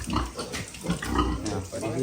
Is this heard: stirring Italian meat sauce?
no